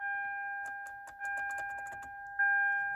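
A 2009 Lexus LS460 with a fuel rail pressure sensor circuit high fault cranks on its starter, giving a quick run of faint rhythmic clicks under a steady electronic tone, without catching.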